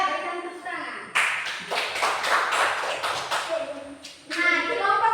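An audience gives a round of applause during a classroom community-service session simulation, a burst of hand clapping of moderate loudness between stretches of quieter background.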